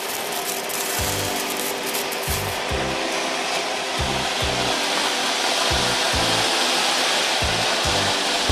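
Sparkling fountain fireworks for Diwali in Sivakasi, Tamil Nadu, throw a steady loud hiss of spraying sparks, with repeated low thumping pulses underneath throughout.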